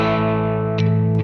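A PRS SE Silver Sky electric guitar played through overdrive rings out as a single distorted chord, sustaining and then struck again near the end.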